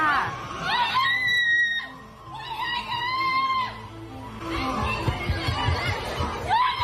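Woman screaming for help at a water park after falling off a raft on a water slide, with shrill cries rising over crowd noise and laughter nearby.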